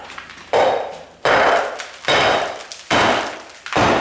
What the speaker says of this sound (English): That is my sledgehammer.